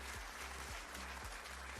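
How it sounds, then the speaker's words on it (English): A short, faint burst of applause, a soft continuous patter of clapping hands that stays quiet and even for under two seconds. "Where's my applause?"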